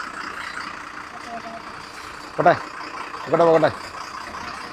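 A truck engine rumbles steadily on the road to Kathmandu, a low continuous drone while brief bursts of speech break in over it.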